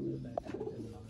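Pigeon cooing among a keeper's rare breeder pigeons in Sangjani, Rawalpindi, a soft low coo rising briefly over a quiet background murmur, close by.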